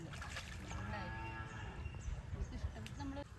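A cow on a village farm gives a drawn-out moo, quiet and somewhat distant, with faint voices and background noise around it.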